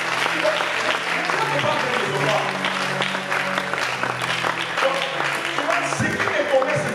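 A church congregation applauding steadily for several seconds, a dense wash of clapping under a preacher's voice speaking over it.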